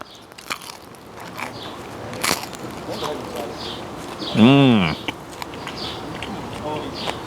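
A crisp bite into homemade Ugandan chapati gives sharp crunches followed by close chewing. Midway a voice lets out a short, pleased hummed tone.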